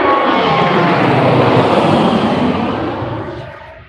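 An airliner passes at Burbank airport during the morning rush, a loud, steady broadband jet roar that holds strong for nearly three seconds and then gradually fades as the aircraft moves away, with no voices.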